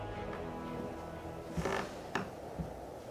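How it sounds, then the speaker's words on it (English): Creaking from wooden gallows at a roadside near graves on the road to Vallaki, heard as a few short separate creaks over a constant dark ambient drone. "You hear a creaking noise behind you coming from the gallows."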